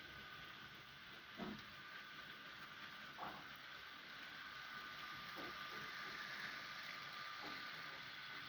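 A model railway class 03 shunter locomotive runs slowly along the track with a faint, steady mechanical whir and occasional soft clicks over the rails, quiet and even throughout.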